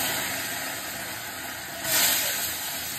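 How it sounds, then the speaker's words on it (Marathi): Paneer sizzling as it fries in a hot pan for a salad, a steady broadband hiss with a brief louder flare near the end, no voices present. "हे इथं मी पनीर थोडंसं फ्राय करून घेते आहे।"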